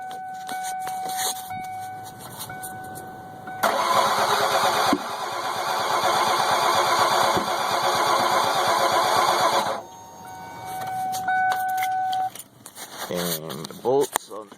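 A 1995 car engine with a no-start fault cranks in a long, loud, steady whir with no catch. A voice talks before and after it.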